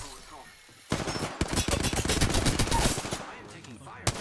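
Rapid automatic gunfire in Apex Legends bursts in suddenly after a quiet start, a loud fast rattle of shots lasting about two seconds before tapering off, followed by one last sharp report.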